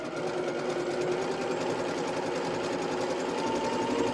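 Sewing machine stitching a quilt block for a hidden star pattern, one piece at a time, running steadily and fairly close with a fast even whirr throughout, no talking.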